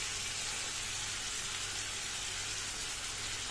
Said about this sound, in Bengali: এখন মশলাটা ঢেলে দিলাম